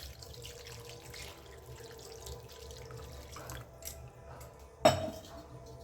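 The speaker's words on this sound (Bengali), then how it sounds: "এবার আমি একটু অল্প করে জল দিয়ে দিচ্ছি।" A little water is poured into a cooking pot while making dal chorchori in a home kitchen, a soft watery trickle under low background noise, ending with a sharp clink of metal.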